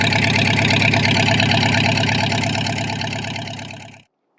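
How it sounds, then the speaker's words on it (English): An old Husqvarna 51 chainsaw engine idles loud and close with a steady, buzzing pulse, then cuts off abruptly into silence. "We got the old Husqvarna 51."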